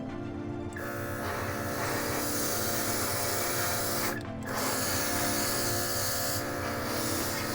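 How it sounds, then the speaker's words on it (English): A cordless compressor drives an airbrush spraying clear coat onto seats, giving a steady close buzzing hiss that cuts out briefly twice before resuming. "You can get in with this airbrush and just do real nice precision work"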